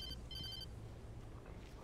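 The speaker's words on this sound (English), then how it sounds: "Phone call? Now?" Telephone rings in the video game Alan Wake, two short electronic bursts of a ringing bell over a dark, low ambient rumble.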